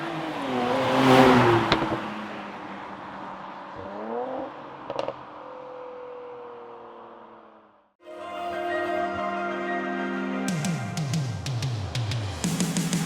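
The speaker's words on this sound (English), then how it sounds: "Let go of the accelerator and you hear this array of pops and crackles." Engine revs rise and fall through an AMG Performance Exhaust, then a burst of pops and crackles as the throttle lifts, ending in sharp rapid bangs over a rumbling idle.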